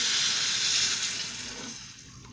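Tamarind water poured into a pan of simmering garlic kulambu gives a soft, steady hissing splash that fades over a couple of seconds, quiet and close, with no talking.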